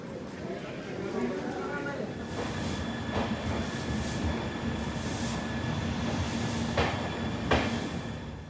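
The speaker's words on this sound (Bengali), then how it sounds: "আর আমাদের ট্রেন বিফোর টাইম 5 মিনিট আগে ঢুকেছে।" A passenger train stands at Dhanbad station platform, with a steady low rumble of rail noise and occasional wheel or brake squeals and clanks, while people talk nearby amid station bustle.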